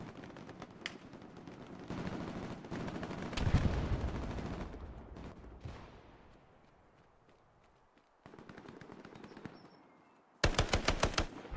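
Grease gun submachine gun fire in Hell Let Loose, a World War II shooter: rapid bursts of automatic shots amid battlefield noise and movement, with a loud dense burst near the end.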